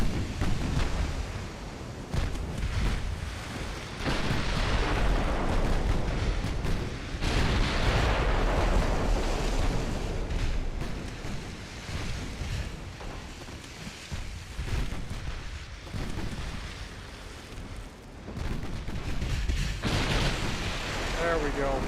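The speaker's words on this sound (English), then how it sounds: "12 14-inch guns are targeting that battleship." Heavy naval gunfire from a battleship's 14-inch guns in Ultimate Admiral Dreadnoughts, booming salvos rolling over one another into a sustained roar with deep rumbling tails.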